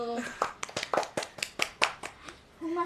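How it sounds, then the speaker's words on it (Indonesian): A small group claps in a podcast studio, with about a dozen uneven claps over a couple of seconds between stretches of speech at either end. "Tepuk tangan dulu."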